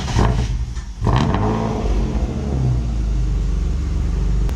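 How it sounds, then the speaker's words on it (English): Junkyard-parts drift car cranked over, catching briefly before settling into a loud, steady close rumble with a rough revving surge, no talking. "now George is gonna start the car"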